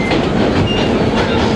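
A vintage R1 New York City subway train runs along the track, a loud, close rumble with rapid rhythmic clatter of wheels over rail joints filling the whole moment.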